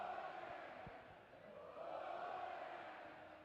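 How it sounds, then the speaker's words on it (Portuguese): Guarani supporters in the stands at a Brazilian Série C match against Inter de Limeira make a broad, sustained roar of crowd chanting. It swells and dips over a few seconds, distant and continuous, with no voices standing out. "a torcida, ó, escuta só"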